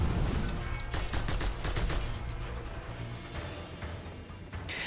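Upgraded gun firing in the Just Cause 2 video game, a rapid burst of loud, sharp shots with dense broadband crackle, steady and close, with no talk over it.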